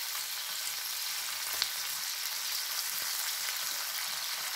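Shrimp frying in a hot pan while being stirred, seasoned only with salt, giving a steady, close, bright sizzle with faint scraping from stirring, no voices.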